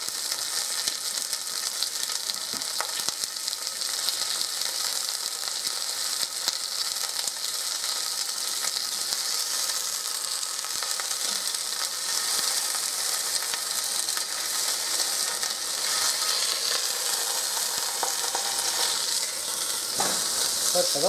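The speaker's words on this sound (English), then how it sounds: "I'm just going to sear this on all four sides. So hear that?" A sirloin pork roast sears in a hot pan, producing a loud, continuous, crackling sizzle that holds level from start to finish, close by and with no speech.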